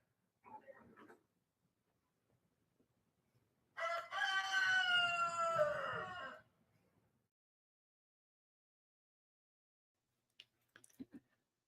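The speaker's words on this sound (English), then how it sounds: "did you hear my rooster in the back?" A rooster crows once in the background, a single drawn-out cock-a-doodle-doo lasting a few seconds amid otherwise quiet surroundings with a few faint knocks.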